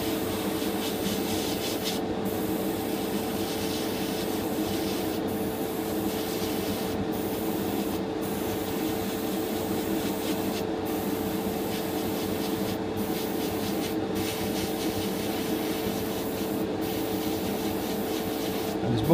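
An airbrush or spray gun hisses steadily while paint is applied slowly to a Bandai 1/60 scale Strike Gundam model kit's armour, a constant close spray broken by several brief pauses, with no talking.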